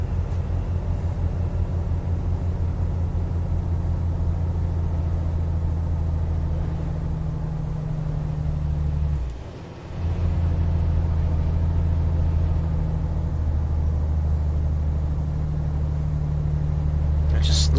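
Volvo FH truck hauling 40 tons in Euro Truck Simulator 2, its engine laboring in a deep, steady drone that dips briefly mid-way as the gear shifts, then resumes its heavy rumble.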